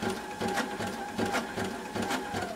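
Sashiko sewing machine stitching through a quilt, running in short bursts of rapid mechanical stitching with brief pauses between, close and steady.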